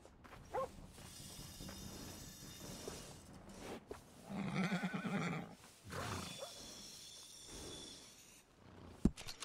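A horse whinnies in Red Dead Redemption, a faint whinny near the start and a louder, quavering neigh in the middle, with snorts and a few soft hoof clops around it.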